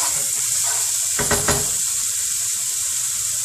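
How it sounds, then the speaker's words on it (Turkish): Steady loud sizzling of onions frying in a pan for cauliflower kısır, with a brief scraping stir in the middle, close up. "güzel karıştırıyorum"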